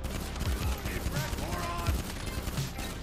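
Gunfire during a heist in GTA, with repeated sharp shots in irregular bursts over a steady background of game noise, fairly close and moderately loud.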